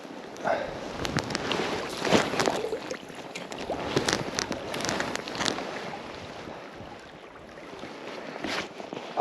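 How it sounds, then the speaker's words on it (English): Wind gusting outdoors beside the River Spey while fishing, a broad rushing roar with buffeting bursts against the microphone, rising and easing over several seconds. "the wind picked up a wee bit there while we were having a blather at the bench"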